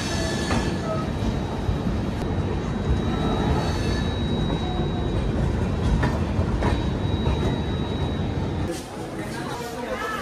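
A train running toward Shantiniketan on the Kolkata to Bolpur route, with a steady loud rumble of wheels and carriages, rhythmic clatter and occasional squeals, continuous throughout with faint voices underneath.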